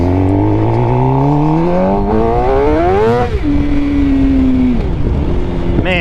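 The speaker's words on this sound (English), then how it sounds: "this bike sounds amazing" A 2024 GSX-R750 sport motorcycle with a full titanium M4 exhaust revs up and down close by, its engine pitch climbing steadily, peaking, then settling into a held note before dipping and rising again.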